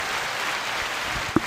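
A single sharp hand clap, abrupt and cut short, rings out near the end over a steady hiss of room noise.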